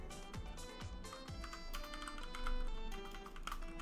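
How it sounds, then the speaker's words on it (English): Rapid, uneven clicking of a computer keyboard being typed on, close and fairly quiet, continuing steadily throughout with no talk. "you're typing, Jason."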